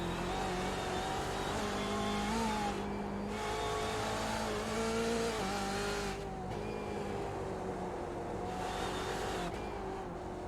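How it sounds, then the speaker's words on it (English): Race cars run through the infield of the Charlotte Roval in a racing game, a steady engine drone with shifting pitch as gears change and revs rise and fall, continuous and without voices. "I love the sound of these cars, though, when you just hear them running through the infield like this"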